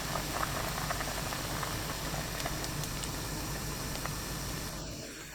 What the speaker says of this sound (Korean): 보글보글 끓기 시작하면 파와 계란을 넣습니다.